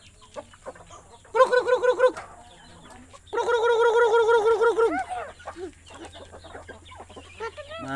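Chickens of a good breed on a Filipino farm give two loud, drawn-out calls, the second longer, standing close and clear over a quiet background with scattered softer clucks and rustling between them.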